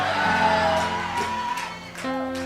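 A church congregation shouts amen in answer to a preacher, a loud burst of mixed voices yelling together that carries on through the whole short moment.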